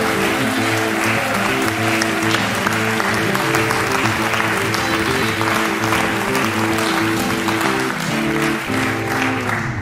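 A theater audience applauds to welcome Bavarian cabaret artist Lisa Fitz onstage, a dense, steady wash of clapping that stays loud and even for the whole stretch, with no voice rising above it.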